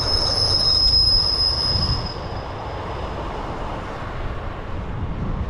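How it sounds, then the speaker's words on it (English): At Allonby train station, a train's wheels squeal loudly and high-pitched for about two seconds, then fade into a rumbling, rolling rail noise with no voices. "Allonby train station."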